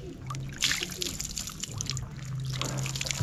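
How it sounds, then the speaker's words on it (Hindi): Water thrown by hand into a container holding small goldfish, splashing and trickling in short bursts at close range, with a low steady hum underneath. "मैं पानी फेंक रहा हूँ"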